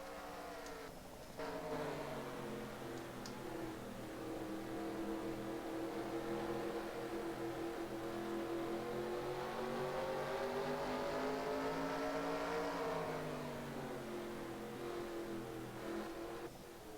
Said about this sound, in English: Does Baggers try and overtake the 44 car for the second place spot again